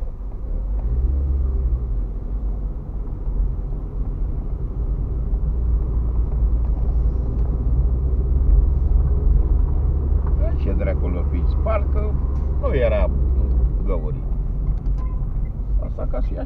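Road traffic on a city street in Ploiești: a steady, loud low rumble of passing vehicles throughout, with some faint voices and higher sounds toward the end.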